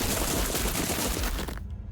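Gunfire in the Limbus Company video game, a dense, loud, continuous volley of shots that cuts off abruptly near the end.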